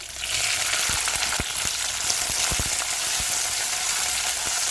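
Okra tempered in oil with mustard seeds, urad dal, cumin, dried red chillies and curry leaves fries with a dense, steady sizzle, punctuated by several low thumps and pops as ingredients are stirred.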